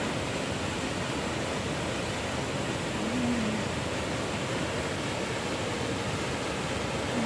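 A waterfall in a national park in Tsuen Wan roars as a steady, dense wash of rushing water, even and unbroken throughout, with no voices over it.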